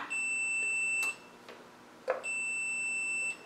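Steady high-pitched electronic beeps from a continuity tester touched to bare metal on a car chassis sound twice, each held for about a second, separated by a short gap with a faint click.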